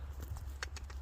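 A calm horse walks with soft, faint hoofbeats, a few irregular clip-clop strikes over steady low background rumble.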